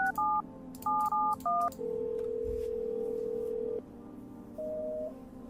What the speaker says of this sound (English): Let me give her Pops a call